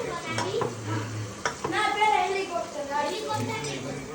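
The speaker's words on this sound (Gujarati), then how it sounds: "આખી ડુંગળી તળી" Whole onions fry in a pan with a soft sizzle and stirring scrapes, partly buried under close, continuous talking.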